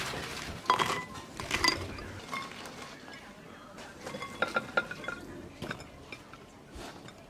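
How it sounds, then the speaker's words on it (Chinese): Fried crispy pork is put into bowls in a home kitchen, bringing a series of soft clinks and knocks of pieces and utensils against dishes, close and fairly quiet, spread irregularly throughout. "炸好的酥肉全部装到碗里"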